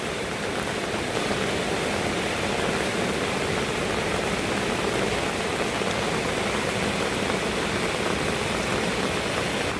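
Steady, dense rushing of fast-moving floodwater, a constant broadband roar with no pauses, continuing throughout without voices.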